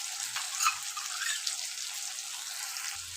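Ginger-garlic paste frying in a pan with tomato, a steady broadband sizzle with occasional soft pops and stirring, continuous and fairly close.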